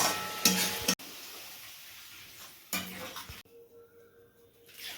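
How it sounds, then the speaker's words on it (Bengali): Spice paste for a bhetki fish curry sizzles steadily in a pan, broken by a few sharp stirring scrapes, close up and with no voices. "প্রথমে মশলাটা ভালো করে কষিয়ে নিয়ে"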